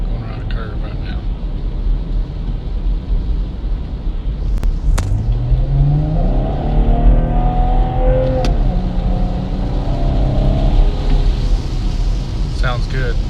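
A 6th-gen Chevrolet Camaro with NPP exhaust and the exhaust fuse pulled rumbles down a road, its engine note rising steadily as it accelerates, loud and close throughout.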